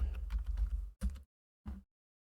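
Rapid clattering keystrokes on a computer keyboard fill the first second, then two short bursts of typing follow after brief silent pauses, close and crisp.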